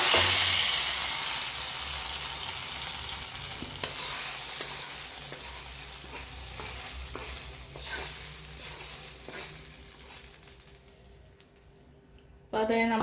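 Onions and curry leaves sizzle and crackle in coconut oil in a pan for prawn curry, with steady loud frying, repeated stirring scrapes and a brief burst near the end.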